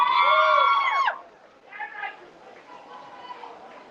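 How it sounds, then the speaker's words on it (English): Spectators chatter in a murmuring crowd at a national shearing and wool handling competition, with a loud sustained voiced call up front before the babble settles into a steady low hum of overlapping voices. "I hear a lot of chatter back there"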